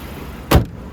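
Hood of a 2022 Audi Q5 Sportback being shut: a single solid thump midway, short and close, with a low body to it over quiet outdoor background.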